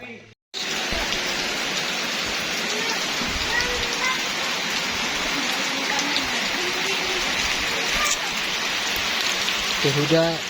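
Steady, fairly loud rain pours down at a natural pool visited by tourists in Toraja, a dense even hiss that keeps up almost without break after a brief gap at the start.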